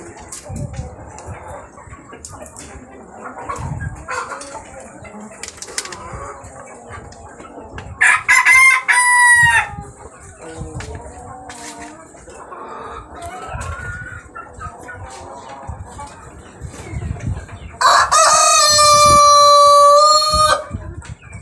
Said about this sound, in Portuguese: gostaram do vídeo do galo, dos galos cantando?